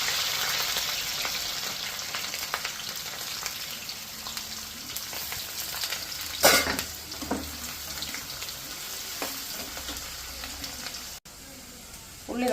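Garlic, ginger and onion frying in oil for a chilumbi pulli pickle, giving a soft continuous sizzle with occasional stirring clatter, one sharper knock midway; close but fairly quiet, no talk.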